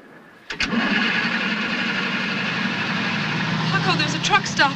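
A motor cranks and churns continuously, grinding on without catching into a smooth idle, loud and close.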